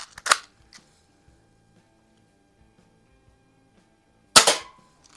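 Two sharp BB pistol shots, one near the start and one near the end, each a crisp close snap with a faint tick after it, separated by a long quiet gap, during a budget BB plinker comparison.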